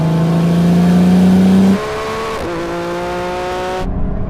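A Lamborghini Revuelto with naturally aspirated V12 and a twin-turbo V6 Ferrari 296 accelerating hard in a rolling race, a loud close engine roar climbing in pitch, then dropping sharply at gear shifts before rising again.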